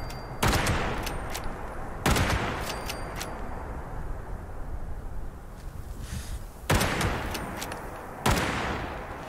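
Gunfire in the video game Fallout 76: four loud bursts of rapid shots crack out at uneven intervals, each trailing into a noisy rumbling wash between them.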